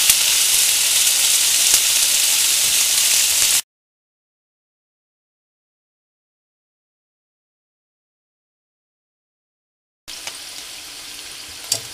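White beans and potatoes sizzle in a pan over medium heat, a steady bright frying hiss that drops to total silence for several seconds before resuming more faintly with small scattered pops.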